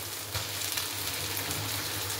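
Tomato frying with ginger and garlic in a pan sends up a dense, continuous sizzle close by, with a faint stir or clink near the start and no one speaking.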